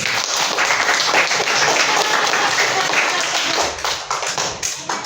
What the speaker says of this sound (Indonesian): Tepuk tangan buat Pak Anwar.